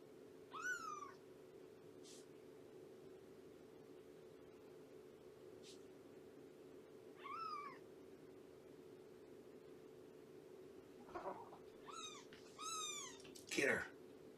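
A playful kitten gives several short, high meows spaced out over a quiet steady hum, fairly faint, with a quicker cluster of calls near the end.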